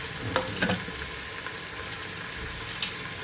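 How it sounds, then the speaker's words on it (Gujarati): Cauliflower goes into a pan of frying pav bhaji vegetables with carrots, giving a soft, steady sizzle with a few light stirring scrapes and clinks near the start and end. "હવે એમાં ફુલાવર ઉમેરી દઈશું, ફુલાવર પણ"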